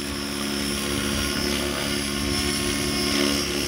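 An RC helicopter's main rotor spins up on the bench during a VBar vibration analysis, a loud, steady close-up drone with a thin whine held over it and no letup.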